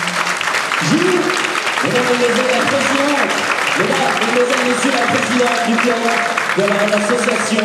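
Audience applause at a concert in a hall, a continuous wash of clapping from many hands while a voice speaks or sings over it.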